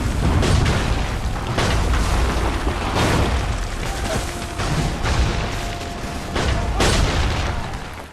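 Musket volleys and artillery fire thunder across a battlefield in an Assassin's Creed game, a dense, loud barrage of overlapping booms and blasts repeating every second or so with no pause.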